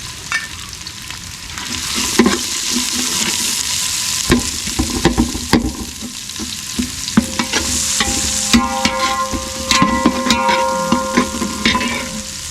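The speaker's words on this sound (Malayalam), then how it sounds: "അതിന് ഇനി ഈ സവാള നമ്മൾ ഇട്ട് കൊടുക്കാൻ പോകട്ടോ അവളിട്ട് കൊടുത്തിട്ട് നന്നായിട്ട് നമുക്കൊന്ന് ഇളക്കി കൊടുക്കാം" Sliced onions frying in a pan for a Wayanad-style beef bone dish, with a loud continuous sizzle broken by repeated scraping strokes of a spoon as they are stirred, close up and without speech.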